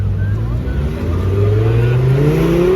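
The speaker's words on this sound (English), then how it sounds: "You got a 992 G3S driving by there." Porsche 992 GT3 S supercar driving past at a busy supercar show in Toronto, a loud engine note that rises in pitch as it nears, heard amid crowd noise.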